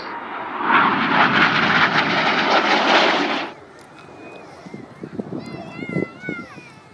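Red Arrows jet aircraft roar loudly past at the Yeovilton Air Day display, a broad close rush lasting several seconds that cuts off abruptly, followed by quieter crowd sounds and chirping birds.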